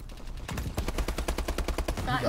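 Rapid automatic gunfire from a shooting video game, a steady run of close, loud, evenly spaced shots lasting a couple of seconds, with a voice faintly present underneath.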